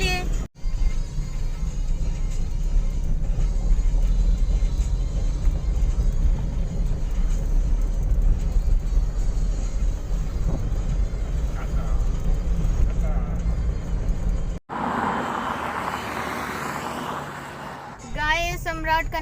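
Steady low road rumble from inside a moving car, with a constant drone under a voice talking, then a sudden cut to a different, quieter scene near the end.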